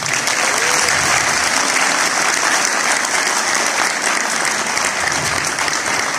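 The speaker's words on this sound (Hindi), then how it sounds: "तो आप जब बहुत सारी तालियां बजाने के मूड में होंगे तो मैं उनको बुलाऊंगा स्टेज पे।" Audience applause as a guest is called onto the stage at a drama event, a loud, dense and continuous roar of clapping from a large crowd that holds steady throughout.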